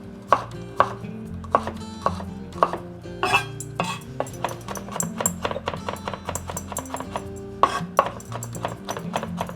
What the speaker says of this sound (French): Je vais hacher grossièrement.